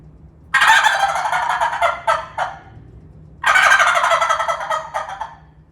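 A turkey gobble imitated with a diaphragm turkey call comes in two loud, rapid rattling bursts, each trailing off into a few short choppy notes, with quiet pauses between them.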